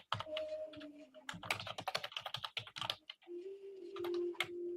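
Someone types a text message on a phone keyboard, producing rapid irregular taps in short clusters with brief pauses, close and fairly quiet, with no talking.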